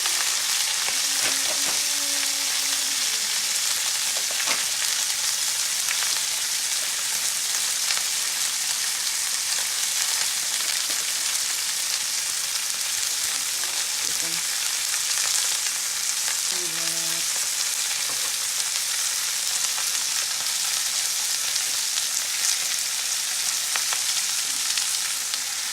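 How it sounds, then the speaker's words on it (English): Cabbage frying in a hot pan, a steady dense sizzle running throughout with occasional small pops and faint utensil taps, no talking. "put some of the cabbage on. It's really popping."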